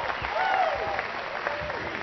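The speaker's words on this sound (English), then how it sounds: "A couple oohs and ahs from the crowd on that one." Crowd at a professional tennis match applauding a winner, a steady wash of clapping with some oohs, under a commentator's voice.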